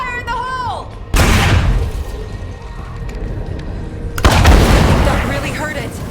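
Explosions go off in State of Decay 2 with two loud, booming blasts a few seconds apart, each trailing into a rumbling decay, while game sounds and a voice are heard around them.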